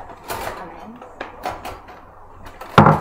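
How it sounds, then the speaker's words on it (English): Anzac biscuit ingredients, including raw brown sugar, being mixed together in a bowl: scattered scraping and clinking strokes of a utensil against the bowl, with a sharper knock near the end. "now I'm just going to mix that up together so that it's all combined"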